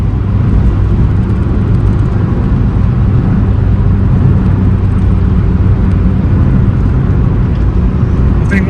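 A Suzuki Swift VVTS GLX is heard driving, its steady engine and road roar loud and close throughout, with no voices on top.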